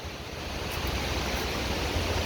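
Water pouring over the Glick Road Dam spillway and waterfall on the Scioto River, a steady, dense roar of rushing water that holds constant and fairly loud throughout, with no voices.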